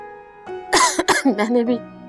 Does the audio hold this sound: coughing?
yes